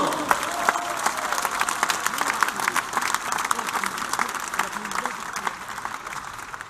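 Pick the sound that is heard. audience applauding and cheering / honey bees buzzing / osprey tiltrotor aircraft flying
audience applauding and cheering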